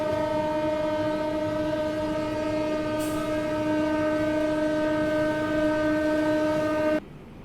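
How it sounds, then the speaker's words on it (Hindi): The Mahabodhi Express sounds a long, loud, steady horn with a rich harmonic tone that holds for about seven seconds and then cuts off abruptly. "देखो वहाँ दूर धीरे धीरे चेस करते हुए महाबोधि एक्सप्रेस आ रही है"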